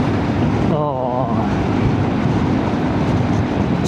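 Heavy road traffic with trucks and buses rumbles steadily past, a loud continuous roar of engines and tyres close by, while someone talks briefly over the noise.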